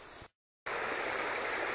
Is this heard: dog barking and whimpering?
no